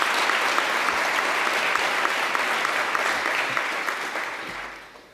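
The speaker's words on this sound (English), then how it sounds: "Big round of applause, please." Conference audience at EuroPython 2018 gives a lightning talk a strong, sustained round of applause, many hands clapping evenly before it fades out at the end.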